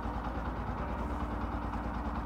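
Bajaj Platina 110 motorcycle engine idling, a steady low putter with an even, continuous rhythm from close by and no talk.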